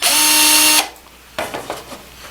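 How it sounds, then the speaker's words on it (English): Electric drill spinning a homemade handle of melted plastic from blue barrels, a loud steady whine for under a second, then stopping, followed by a few faint knocks and handling sounds. "I can drill that"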